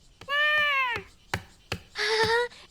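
A kitten meows twice, two clear drawn-out cries with a pause between them, close and fairly loud, with a few sharp knocking taps in between.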